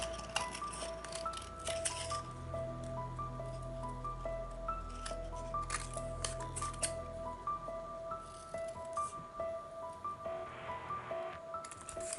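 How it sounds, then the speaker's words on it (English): Steady snipping and crisp paper cutting sounds continue throughout, close and fairly quiet, with small clicks and rustles over a low background hum. "You can either cut these with your scissors"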